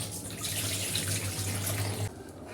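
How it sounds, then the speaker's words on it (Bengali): Tap water runs steadily into a sink while small fish are rinsed, a close, continuous splashing stream that cuts off near the end. "একবারে সাদা পানি চলে আসবে তারপরে এটা ধোয়া বন্ধ করবো"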